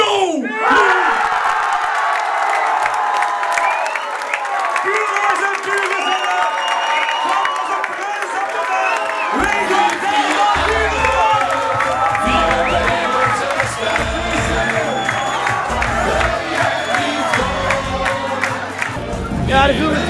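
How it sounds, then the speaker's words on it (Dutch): A carnival crowd at a 2018 prince's celebration cheers, whoops and shouts loudly and continuously for about twenty seconds, with mixed voices and some clapping blended into the roar. "mag ik een daverend applaus voor deze carnaval 2018, Prins Lou!"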